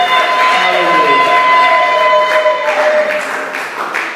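A church congregation cheers and acclaims the Lord, a loud mass of voices with sustained shouting and ululating tones that slowly fades, with clapping bursts toward the end.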